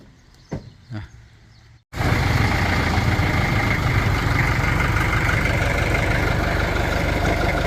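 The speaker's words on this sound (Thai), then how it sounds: "ตัวนี้ก็จะใช้เครื่องยนต์สี่สูบนะสี่สูบ" A four-cylinder engine driving the hydraulic pump of a well-drilling rig: a few faint knocks, then the engine cuts in abruptly and runs loud and steady as a close, constant drone.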